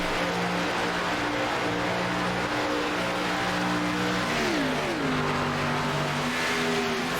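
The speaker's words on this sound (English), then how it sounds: "Fantastic noise by these ARCA beasties. They do sound great." An ARCA stock car engine in the iRacing sim roars steadily and loudly throughout, with a sustained high drone that dips briefly mid-clip as the car shifts or lifts, then settles again; no talking.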